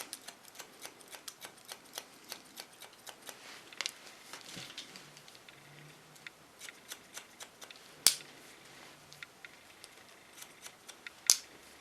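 Scissors snipping hair during an asymmetrical pixie cut in a salon, a steady run of small crisp clicks close to the microphone, with a couple of sharper, louder snips standing out.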